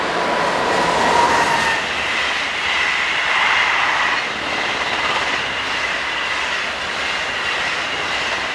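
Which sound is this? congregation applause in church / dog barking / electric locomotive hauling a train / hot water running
electric locomotive hauling a train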